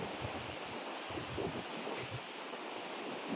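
Steady wind roars across the high Pheriche Bridge on the Everest Base Camp trek, a continuous broadband rush with gusty low rumbles and buffeting against the microphone, heard alone without voices.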